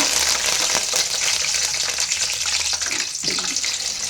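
Mustard seeds, cumin and curry leaves frying in hot oil for a puffed rice tempering, a loud continuous close sizzle with a few sharper spits, dipping briefly near the end.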